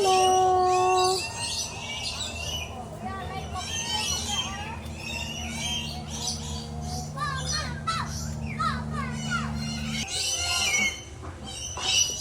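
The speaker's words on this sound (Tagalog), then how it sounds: "This is a parrot." Parrots in a zoo bird aviary give shrill chirps and squawks, close and frequent, mixed with children's chatter and adult voices nearby.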